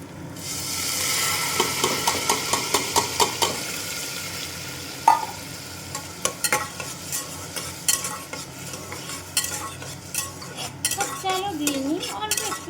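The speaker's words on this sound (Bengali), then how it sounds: "সবজিটা ভাজা হয়ে আছে এবার আমি চালটা দিয়ে দেবো" Rice goes into a pan of frying vegetables for khichuri, with rhythmic metal spoon scrapes and stirring clatter over a bright sizzle, close and fairly loud, then irregular clinks and scrapes.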